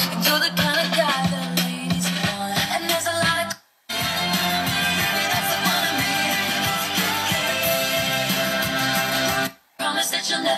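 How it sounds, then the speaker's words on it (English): Music streams from a phone over Bluetooth to a home party speaker with RGB stage lights, playing loud and full in a room, with two brief silent gaps between passages. "What you are hearing right now is played from my phone using Bluetooth."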